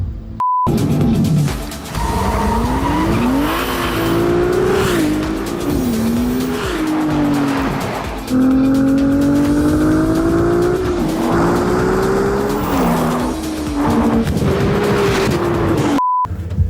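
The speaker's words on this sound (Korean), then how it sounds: "엔진 소리 한번 들어보시죠." A Ferrari 296 GTB with a V6 engine, loud and close, revving hard through rising gear pulls with shifts and changes in pitch, accompanied by tire noise over about sixteen seconds.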